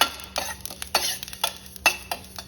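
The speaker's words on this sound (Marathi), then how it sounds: "आणि कढईमध्ये तीळ आणि खसखस भाजून घेतली" Sesame and poppy seeds being roasted in a kadhai: several quick scraping stirs of the seeds against the pan, with a faint sizzle between strokes.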